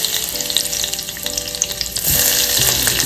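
Curry leaves fry in a hot pan for a yogurt curry, giving a dense crackling sizzle with stirring scrapes, close and loud, and the frying grows more intense partway through.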